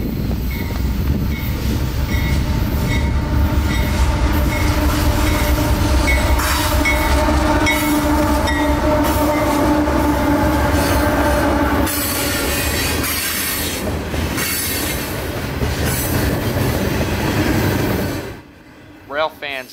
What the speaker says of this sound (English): First train to show up on this trip was Q453, southbound daily mixed freight from Waycross,